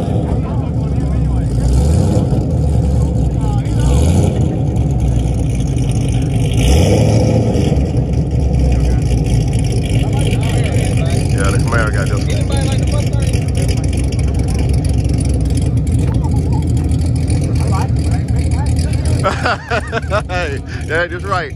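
A Mustang and a Camaro rev and race side by side, their engines a loud, sustained roar that rises and surges throughout, with people talking over the din.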